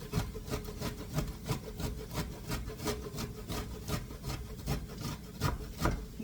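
Steady rhythmic rasping as unpeeled fresh ginger is rubbed back and forth on a grater, quick even strokes repeating close up with no talking.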